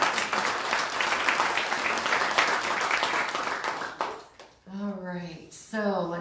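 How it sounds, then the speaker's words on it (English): A live audience gives a round of applause for guest JoeAnne Hardy, a thick burst of many hands clapping for about four seconds, then dying away as a voice starts talking. "let's give a round of applause"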